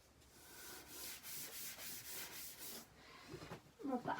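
A height chart sticker is rubbed firmly onto a wall in quick, even back-and-forth strokes, a close rhythmic scraping that stops before a voice speaks briefly at the end.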